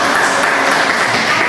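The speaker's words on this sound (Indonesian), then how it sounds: "tepuk tangan buat." Brief, steady clapping in a classroom, dense and even from start to finish.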